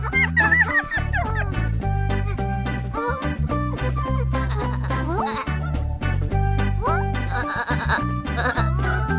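Sheep bleat repeatedly and loudly in a busy, wavering cartoon chorus, layered over bouncy background music.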